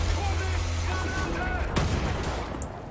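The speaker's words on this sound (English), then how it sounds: "Yeah, grenade." A grenade blast booms amid ongoing gunfire in Wolfenstein: The New Order, a sharp loud explosion rising over steady combat noise and low rumble, with voices faintly present.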